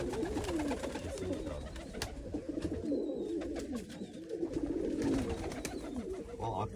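Pigeons of the Turkish dönek (tumbler) breed coo steadily and close by, their low throaty calls overlapping throughout with a constant background hum.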